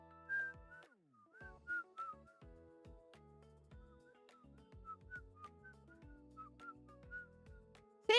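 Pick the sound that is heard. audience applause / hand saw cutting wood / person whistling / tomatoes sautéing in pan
person whistling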